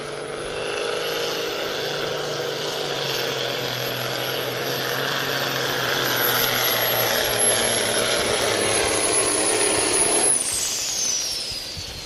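A 1985 Freightliner hot rod semi truck pulls at a truck pull event in Osceola, Iowa, its engine giving a loud, steady roar that holds for about ten seconds and then eases off, with a whine sliding down at the end.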